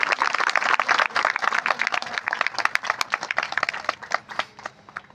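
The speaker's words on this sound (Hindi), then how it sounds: "यीशु मसीह के लिए जोर से ताली बजाओ" A church congregation claps loudly in praise of Jesus at a worship service, a dense, sustained burst of many hands that thins into scattered claps toward the end.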